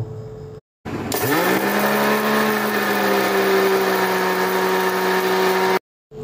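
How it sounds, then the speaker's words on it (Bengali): A kitchen mixer grinder pulverizes roasted dried red chillies, bay leaves and cumin seeds. Its motor whine rises as it spins up, then holds a loud, steady drone for several seconds before cutting off abruptly. "ভালো করে লাল লাল করে ভেজে আমি একটা মিক্সিতে গুঁড়ো করে নেব"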